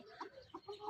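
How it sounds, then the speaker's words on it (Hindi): A chicken on a village farm gives a few soft, close clucks in short bursts over a quiet background. "ये देखें, ये चेक करें मुर्गी"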